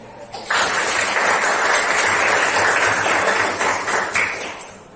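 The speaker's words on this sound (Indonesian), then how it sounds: "kita berikan tepuk tangan dulu" Students in a classroom applaud after an automotive business lesson, a burst of dense, loud clapping that starts abruptly, holds for about four seconds, then tapers off.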